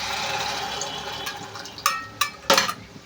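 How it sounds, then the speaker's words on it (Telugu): Water poured from close by into a pan of besan (gram flour) curry on the stove, heard as a steady splashing fill followed by several sharper splashes near the end. "ఇప్పుడు దీంట్లో అయితే వాటర్ అయితే వేసుకుందామండి."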